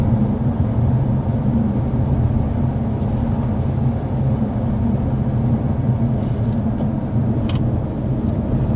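Steady, loud low-pitched road and engine drone fills the cabin of a 2025 Hyundai Elantra N cruising in 6th gear at 55 mph, with no talking.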